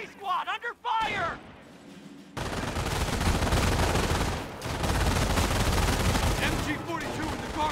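Machine gun fire in Company of Heroes rattles in long continuous bursts, loud and close, with a brief gap midway, after a few shouted voice lines at the start.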